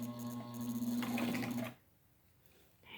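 A sewing machine stitching leather runs loud and steady with a mechanical whir for under two seconds, then stops abruptly, leaving near silence.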